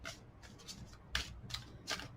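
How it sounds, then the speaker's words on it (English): Large oracle cards being shuffled by hand in a few quick riffling bursts, close and fairly quiet, with no talk over them. "That's shuffled enough."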